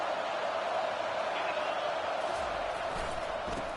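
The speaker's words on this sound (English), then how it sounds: "this crowd is fired up. Listen to this noise here." A stadium crowd roars at a college football game in the video game College Football 25, a constant, loud wash of massed voices filling the whole moment with a broad, steady drone.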